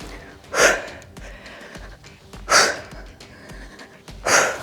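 Heavy rhythmic breathing during an ab workout, three strong forceful exhales spaced about two seconds apart, close to the microphone with a low background beat between them.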